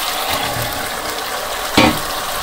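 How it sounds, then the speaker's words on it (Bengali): Tomatoes go into a frying pan with potatoes in a village kitchen, setting off a steady, moderate sizzle marked by one sharp scraping clatter near the end, no voices. "এখন হচ্ছে টমেটো গুলো দিয়ে দিই।"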